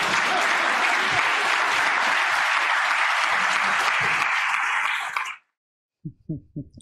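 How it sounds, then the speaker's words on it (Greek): A studio audience on a Greek television commentary show claps in a dense, loud burst for about five seconds that stops abruptly, followed by a few brief voices. "Αλλά άργησαν να χειροκροτήσουν."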